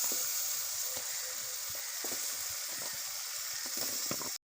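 Potatoes sauté with spices in oil for a prawn gunto dish, giving a steady, close sizzle with scattered crackles and light stirring scrapes, ending abruptly.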